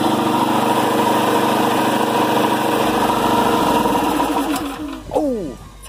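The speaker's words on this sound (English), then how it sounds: "We're back with the good old-fashioned gas compressor here." Campbell Hausfeld gas-powered air compressor engine running close and loud with a steady buzzing drone, then slowing and winding down near the end.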